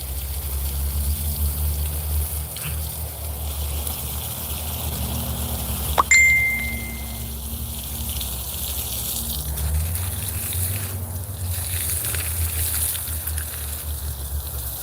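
Water from a hose gushes steadily onto a patch of cleared ground at the base of garden plants, a continuous close rushing wash with one brief sharp clank partway through.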